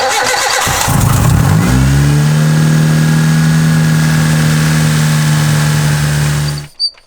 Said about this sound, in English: We're gonna turn the car on now